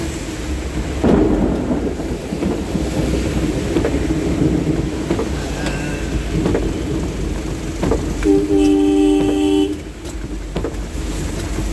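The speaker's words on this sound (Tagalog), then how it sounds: "Kasi malakas ang ulan." Steady heavy rain pours throughout, with rumbles of thunder rolling in, and a brief tonal horn-like sound near the end.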